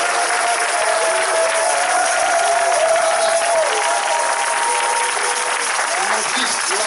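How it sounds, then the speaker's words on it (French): A spiritual retreat audience bursts into sustained applause and cheering, a loud, dense crowd roar that holds steady throughout with voices mixed into the clapping. "Est-ce qu'on peut acclamer Jésus, s'il vous plaît?"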